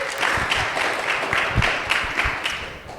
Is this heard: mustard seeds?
no